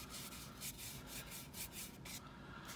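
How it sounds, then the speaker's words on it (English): A brush rubs across a birthday card to clear off loosened letters, giving a steady scratchy scrubbing with repeated strokes, close and fairly quiet, with no talking. "I should be able to get them off with the brush"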